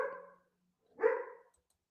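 A dog barks twice in a quiet room, each bark short and fairly close, separated by nearly a second of silence.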